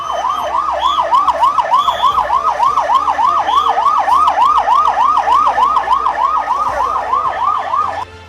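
A civil defence air raid siren wails loud and close during a mock drill in Bengaluru, in a fast, regular rise-and-fall cycle, holding steady for about eight seconds before cutting off.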